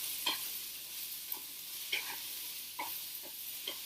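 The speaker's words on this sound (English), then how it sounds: "We just saute this." Fenugreek sauteing in a pan: a faint soft sizzle runs throughout, broken by a few light scraping stirs at intervals.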